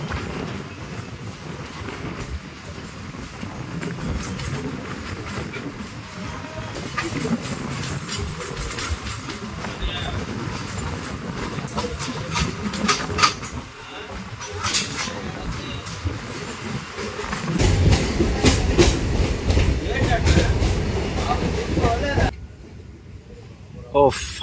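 A local train from Kolkata bound for Kanyakumari rumbles at speed near Brahmapur, with steady wheel roar and rhythmic clatter that swells toward the end before dropping to near quiet.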